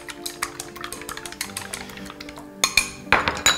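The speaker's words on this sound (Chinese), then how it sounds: "两个鸡蛋是可以的，一个可能有点少，我们加点盐，直接给它打散。" Two eggs with a pinch of salt whisked in a bowl, with quick repeated clinks and scrapes of utensil against the dish, loud and close, a few sharper knocks near the end.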